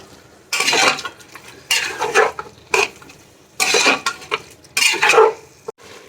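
Thick curd being stirred into rice for mutton biryani in a pot, a utensil scraping and clanking against the metal in several bursts separated by short pauses, close and fairly loud with no talk.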